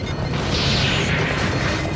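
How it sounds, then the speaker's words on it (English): Sci-fi spaceship explosions from a Star Trek: The Next Generation episode, a loud, continuous rumbling blast with heavy low-end roar and crackling debris filling the whole moment. "There we go, classic explosions."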